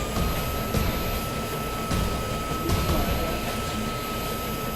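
Aircraft engines at takeoff power during a NASA flight test, a loud, steady roar running the whole stretch with a few sharp bursts, no talk over it.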